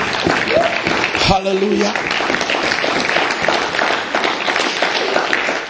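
A church congregation at a pastor's sermon claps and cheers in a steady, loud wash of applause, while a voice calls out briefly over it.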